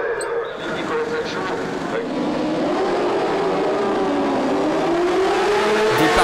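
Superbikes leave the line at the start of a race at Magny-Cours, engines rising together in a loud, climbing roar that builds and sustains, with a commentator talking over it.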